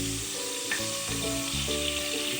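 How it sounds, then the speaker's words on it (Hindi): Catla fish pieces sizzle lightly in hot oil in a pan, a steady close crackle with small pops and a stir now and then, and no voices. "इसको हल्का सा तल लेंगे, बहुत ज़्यादा नहीं।"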